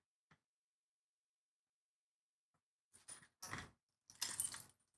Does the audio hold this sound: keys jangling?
yes